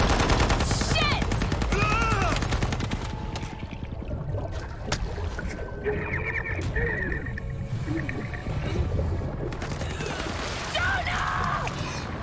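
Machine-gun bursts and scattered shots in the Shadow of the Tomb Raider video game clatter repeatedly over about twelve seconds, sometimes loud and close, with other game noises and splashy effects between volleys.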